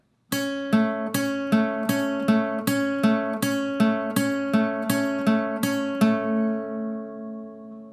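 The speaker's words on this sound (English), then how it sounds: "do the same picking pattern again" Plucked acoustic guitar notes from a song ring out in an even, repeating fingerpicked pattern, each note clear and close, before the final chord fades away.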